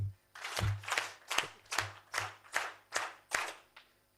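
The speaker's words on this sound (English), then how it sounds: "8 good claps." An audience at a higher education and research cooperation event gives eight slow, evenly spaced claps, each a crisp loud burst, in unison and with no talking.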